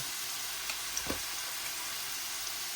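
Garam masala hits hot oil beside mushrooms in a Kerala mushroom roast, giving a faint, steady sizzle with a few soft stirring clicks.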